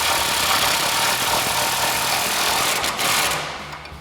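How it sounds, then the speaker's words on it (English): Impact wrench fitted with a 19mm socket and extension tightening the top bolt of a 2.5-inch suspension lift on a Jeep Wrangler JK, a steady loud buzzing rattle that runs for about three seconds before tapering off. "we can go ahead and use our 19mm socket and extension on our impact to go ahead and tighten"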